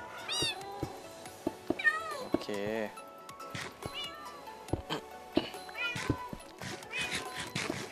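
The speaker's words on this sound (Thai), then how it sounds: "น้องแมวร้องเยอะมาก" Cats in the video game Minecraft meow repeatedly in short rising and falling calls, several clustered together, heard under and between a player's talking and other game sounds.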